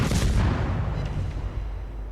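Heavy naval guns in a warship battle video game boom at a cruiser, a loud low rumbling blast at the start that rolls away into a long fading roar.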